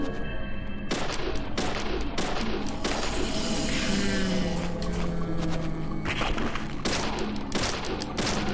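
Repeated gunshots in the horror game Deadly Premonition, loud sharp cracks firing in a steady series over a dense, noisy in-game background, without talk.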